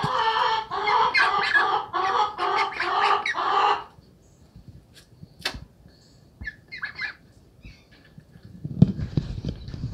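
Young ducks quack and clamor in a loud, rapid run of close calls for about four seconds, followed by scattered softer peeps and rustling, then shuffling movement near the end.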